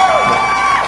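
Audience in a live talk-show setting cheering and whooping for Memo Barrera, a short loud crowd burst with shouted voices sustained throughout.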